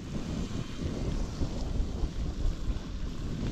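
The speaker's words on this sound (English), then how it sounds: "the rain starts again" Steady rain falling outdoors during a long-distance Tour Divide bike tour, a dense broadband wash with low rumbling wind buffeting the microphone throughout, no voices.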